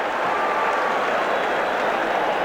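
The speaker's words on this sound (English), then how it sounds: "Fans began to cheer" Football fans cheer and applaud throughout a packed stadium at a Penn State versus Alabama game, a dense, steady roar of crowd noise with no pause.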